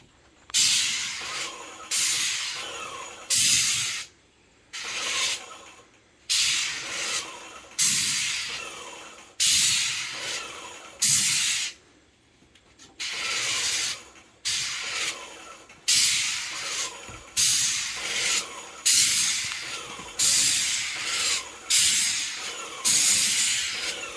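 Repeated bursts of loud, hissing airless-sprayer spray applying deck stain, each lasting a second or two with short pauses between, continuing in an uneven rhythm.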